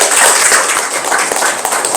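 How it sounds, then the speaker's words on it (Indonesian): Steady applause and clapping fill the room throughout, a dense continuous wash of many hands at an Indonesian official gathering honouring a government official. "Tepuk tangan buat Pak"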